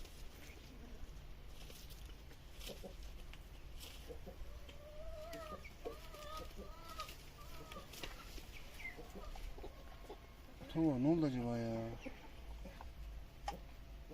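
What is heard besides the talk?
chickens and rooster clucking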